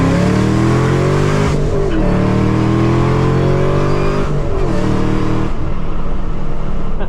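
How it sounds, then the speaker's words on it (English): A loud 650 HP Camaro ZL1 revs hard and steadily, its boosted engine note rising through repeated climbs with brief dips between pulls, close and dominant throughout. "Michael, do a burnout, please."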